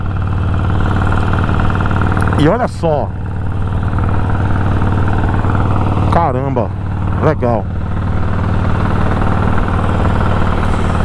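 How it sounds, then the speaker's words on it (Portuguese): Harley Davidson Iron 1200 with a custom exhaust idles in a steady, loud low rumble throughout, while someone briefly speaks over it a few times. "Eu vou deixar só vocês ouvindo o motor dessa moto, tá? O ronco dessa moto com esse escapamento custom"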